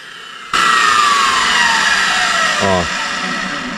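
A power saw bites into a concrete block, starting abruptly and holding a loud, steady grinding whine for about two seconds before its pitch drops as the blade slows and the cut eases off.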